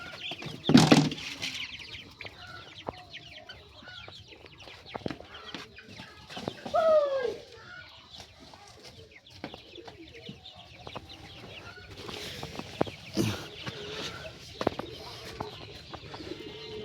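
Chickens on a poultry farm give scattered clucks and soft calls, close and distant, over a quiet yard background with occasional louder bursts of noise.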